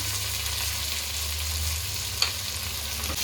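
Carrots and drumsticks with curry leaves and salt stirred in a hot pan, a steady close sizzle with a few sharp scraping clicks from the spoon, no voices.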